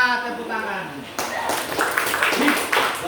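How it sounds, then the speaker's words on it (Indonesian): Hands clap in a classroom-style setting, a burst of sharp, uneven claps following a short stretch of a voice speaking, with the clapping fairly close and loud. "Tepuk tangan."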